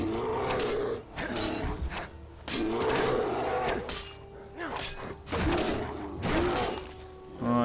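A bear attacking in Skyrim, with several growling roars and heavy thuds and crunching hits in bursts separated by short pauses, fairly close, and no talk.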